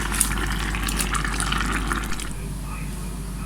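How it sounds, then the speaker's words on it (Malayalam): Coconut oil is drizzled over a simmering ivy gourd curry cooked with kudampuli, giving a steady close liquid pour and soft sizzle that eases off toward the end. "നമുക്ക് കുറച്ച് വെളിച്ചെണ്ണ തൂവി കൊടുക്കാം."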